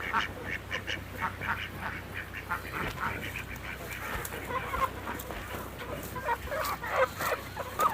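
A flock of free-range country chickens clucking and chattering nearby, busy overlapping calls with a few sharper squawks mixed in, no talking.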